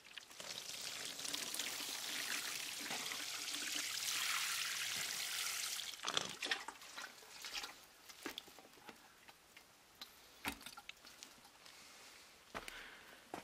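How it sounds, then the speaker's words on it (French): Water pours steadily from a watering can onto freshly planted plum stones and whole plums for several seconds, then stops, followed by scattered drips, soft footsteps and small knocks, quiet and close. "Un bon arrosage."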